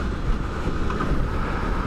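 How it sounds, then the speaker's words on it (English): Strong wind roars and buffets against a motorcycle rider on the road, a steady, loud rushing noise close to the helmet microphone with no voices. "The wind is fighting me hard."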